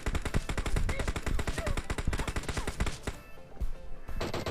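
Rapid automatic gunfire rattles in fast bursts during a PUBG Mobile squad match. The shots are loud and close, then give way to a few scattered single shots near the end.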